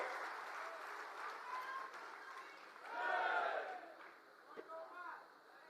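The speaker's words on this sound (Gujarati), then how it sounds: "જોરદાર તાળીઓથી ઈસુદાનભાઈને આપણે વધાવીએ" A crowd at an Aam Aadmi Party rally in Gujarat applauds to welcome Isudanbhai Gadhvi, a steady wash of distant clapping and cheering that swells briefly midway, mixed with a voice over a loudspeaker.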